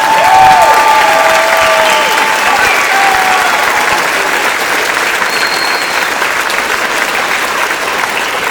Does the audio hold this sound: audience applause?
yes